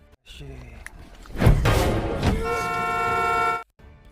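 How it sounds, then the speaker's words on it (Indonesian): A car horn blares in a sustained honk after a couple of short toots and thuds, loud and close, then cuts off abruptly, in a zombie-island survival story. "bunyi klakson yang mereka buat tadi ngebuat para zombie bangun"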